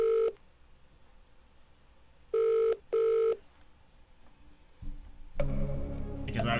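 Three tones of a telephone dialing for a phone-a-friend lifeline in a quiz game, a short beep followed by two more close together, then a ringing tone that swells at the end over a quiet background.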